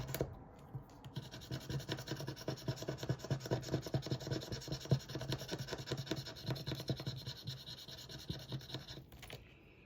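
Steady scratching and rasping on a surface, close and continuous for nearly ten seconds with an uneven rubbing rhythm and a brief pause near the start.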